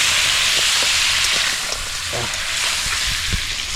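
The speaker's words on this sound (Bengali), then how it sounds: "আলু আর টমেটো দেওয়া হয়ে গেছে, এখন হবে ভাজা।" Potatoes and tomatoes frying in a pan, a loud continuous sizzling hiss close by with faint scattered clicks and stirring knocks underneath, no voices over it.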